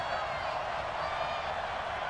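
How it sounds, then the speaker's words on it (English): Stadium crowd in the Madden NFL 20 video game roaring steadily as fans stand and urge on the defense, a dense, continuous wash of cheering noise with no distinct breaks. "And this crowd urging on their defense. They're up and making noise."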